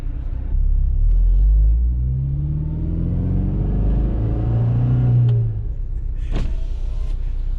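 A 2007 Honda Civic Si with 200k miles revs loud and close, its engine note rising and falling as the car pulls away, and a short whine is heard near the end.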